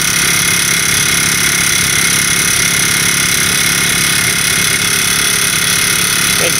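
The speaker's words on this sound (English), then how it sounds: "that's a noisy little generator" A small, noisy generator runs steadily nearby at a new beach market, a loud, constant engine drone with a rattling hum and no break.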